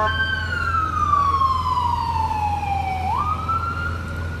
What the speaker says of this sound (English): We'll wait for the sirens.